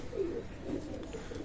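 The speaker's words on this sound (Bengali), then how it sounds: "ওমান ব্লাড লাইনের কবুতর, চমৎকার ব্লাড লাইনের মাদি কবুতর" Oman-bloodline pigeons coo softly at a loft in low, throaty bursts, close by and with no voices.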